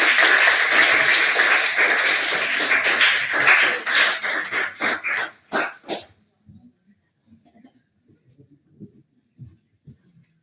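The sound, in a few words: audience applause at a congress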